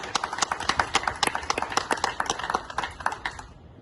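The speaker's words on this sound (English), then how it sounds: "Let's listen a big round of applause for both the democracies." A small outdoor group claps at an Independence Day flag-hoisting ceremony in Fremont, California, sharp individual hand claps in a quick uneven rhythm that fade out after a few seconds.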